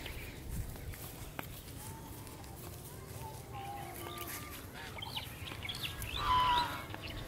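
Geese on a farm honk and call in scattered short bursts at a moderate distance, with a louder cluster of calls near the end over faint outdoor background noise.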